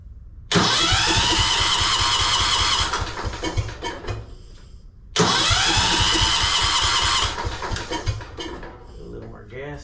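A Wheel Horse tractor engine cranks and catches twice, each start bursting into a loud running roar for a couple of seconds before dying away, with a person speaking in between.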